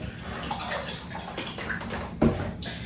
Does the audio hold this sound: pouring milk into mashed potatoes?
yes